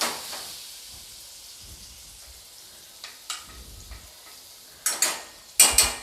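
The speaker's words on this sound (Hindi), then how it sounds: "बटर के साथ ही मैं डाल दूँगी थोड़ा सा हल्दी पाउडर" Turmeric powder frying in butter over a low gas flame while a shahi paneer is being cooked, with a soft steady sizzle, a few stirring scrapes and sharp clanks of a spoon against the pan near the end.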